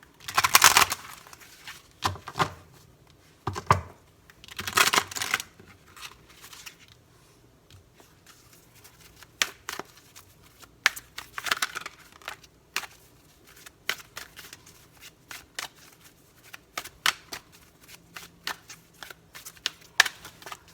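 Oracle cards are shuffled near and alone, with a few loud riffling bursts early on giving way to lighter, irregular card slides and taps.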